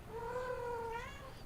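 A small kitten gives one drawn-out, wavering meow, close and fairly quiet, over a low background hum.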